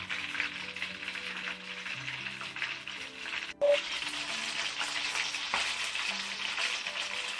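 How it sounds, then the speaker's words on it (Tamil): Quail deep-frying in hot oil gives a steady, dense crackling sizzle that runs throughout. A brief clink of a utensil comes near the middle, and there is no talking. "டீப் ஃபேட் ஃப்ரைங் தான் இதை பண்ணணும்."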